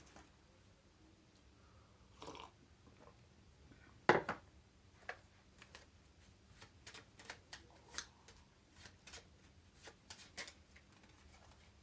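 Oracle cards being shuffled by hand in a quiet room, giving a soft run of riffling and flicking bursts with one sharper snap early on, close and fairly faint, with no talking.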